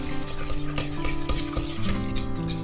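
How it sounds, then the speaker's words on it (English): A spoon stirs a lumpy trifle custard mixture around a pan, giving a continuous close scraping and sloshing with a few sharper knocks against the metal, over a steady low hum. "I'm just going to stir this in."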